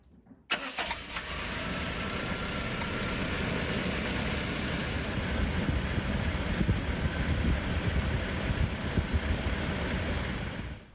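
A van engine, a Toyota HiAce after a radiator replacement, cranks and catches, then idles at a steady, close, loud rumble that carries on unchanged with no speech while the coolant is bled.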